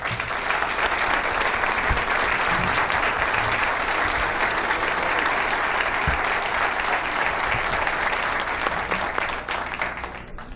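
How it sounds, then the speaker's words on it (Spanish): Sustained audience applause at a book presentation, a dense, even wash of clapping from a full room that holds steady for about ten seconds, with a few louder individual claps standing out near the front. "para quien les pido un aplauso"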